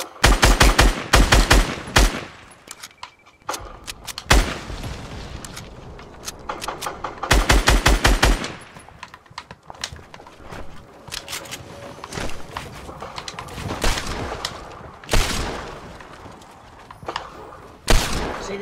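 Automatic gunfire from a P90 and other weapons in a one-on-one first-person shooter match rattles in loud rapid bursts, separated by quieter gaps of movement and background game sound.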